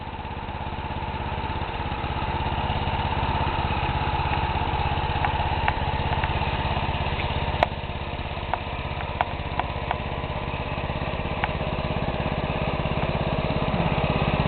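A Power King garden tractor engine with an upright Allis Chalmers muffler runs steadily at idle with a constant throaty drone and a few faint clicks, close by and unbroken throughout.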